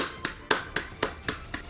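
Hands clap six times in an even, unhurried rhythm, close and moderately loud, with no talking.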